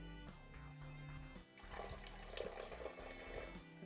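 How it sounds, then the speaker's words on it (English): Water pours into a cooking pot with a soft, continuous splashing and gurgling that swells slightly as the level rises, faint and close. "We're going to add about 1 inch or so of water in there."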